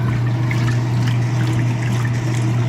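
A Speed Queen washing machine's agitator churns sudsy water with too much detergent, a steady sloshing and frothing over a constant low motor hum, close and continuous throughout.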